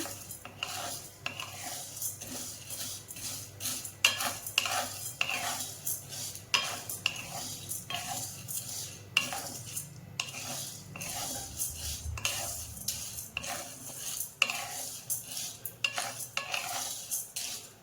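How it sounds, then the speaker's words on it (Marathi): Lentils being lightly dry-roasted in a pan for chakli flour, with steady scraping and rasping strokes of a spoon stirring them, close and continuous with no talk. "आता ह्या डाळीला सुद्धा हलकंसं भाजायचंय, खूप रंग चेंज करायचा नाहीये डाळीचा, हलकं हलकं भाजत चालायचे जरा।"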